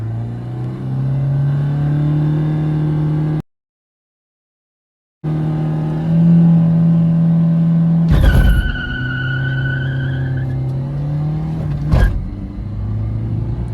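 A Ford Aspire and a Hyundai Creta Turbo accelerate side by side in a drag race. Loud, steady engine drone climbs in pitch, drops out briefly, then continues, broken by two sharp bangs.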